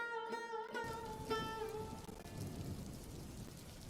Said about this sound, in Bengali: এখন তো বৃষ্টি হচ্ছে, বৃষ্টিতে মাছ বেশি ওঠে।